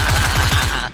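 Gunfire in a video game, a loud, close burst of rapid automatic shots in a steady rattling rhythm that fills the whole moment.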